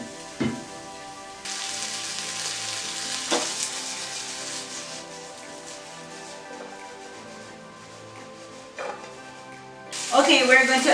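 String beans hit hot vegetable oil in a stir fry pan, giving a steady sizzle with a few sharper crackling bursts, loudest near the end, while a person talks over it.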